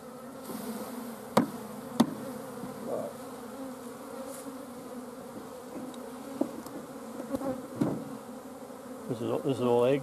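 Honey bees hum in a steady droning buzz during a winter hive inspection, up close, with occasional sharp clicks and knocks of frames and a brief rising buzz toward the end.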